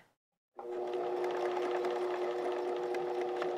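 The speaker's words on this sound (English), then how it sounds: "So we're gonna sew over it." Sewing machine stitching back and forth over the crotch seam of pajama pants, starting after a brief silence, then a steady close whirring hum with a fast mechanical ticking that runs continuously.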